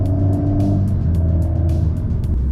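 An Alpine A110S second-generation turbo engine revs loudly and steadily up close, its reworked exhaust rumbling and crackling with sharp bursts throughout.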